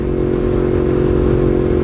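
A Yamaha R1M with a crossplane-crank engine runs loud and close, holding a steady, throbbing roar with a rough, gritty texture throughout and no clear rise or fall in pitch.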